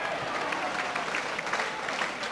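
Applause for good play at a 1997/98 Plymouth Argyle v Wrexham AFC football match, a dense, steady patter of clapping mixed with general crowd noise.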